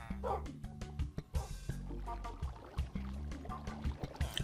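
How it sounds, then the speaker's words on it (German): A dog in the video game Minecraft yips and barks in short, repeated bursts against quiet game background sounds. "Mein treuer Hund."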